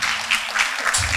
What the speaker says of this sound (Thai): ขอเสียงปรบมือ ให้กับท่านด้วยครับ